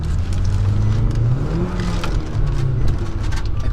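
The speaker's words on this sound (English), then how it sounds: "I told you it's a turbo engine," Audi A3 turbo engine accelerating on a test drive, a loud steady drone that rises in pitch as it revs up, then holds and shifts, with no talk over it.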